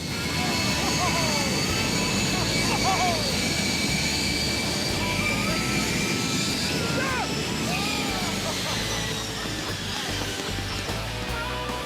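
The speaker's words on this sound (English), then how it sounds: "the jet soon reaches full throttle" A loud, steady jet engine roar holds at full power throughout, broad and continuous, with faint whistling tones above it.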